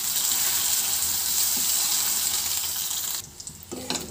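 Marinated brinjal pieces frying in oil in a pan over a medium flame, producing a loud, continuous broadband sizzle that abruptly drops away near the end, leaving a few soft clinks.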